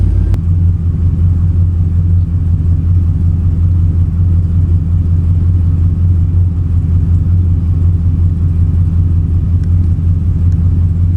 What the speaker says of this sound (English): we'll go ahead and turn on the car. Is it just like misfiring?